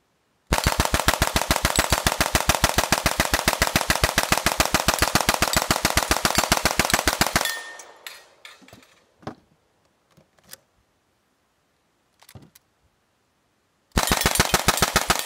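A grease gun submachine gun fires at an outdoor subgun match, a long steady burst of rapid shots lasting about seven seconds, then scattered clicks and clatter before another burst starts near the end.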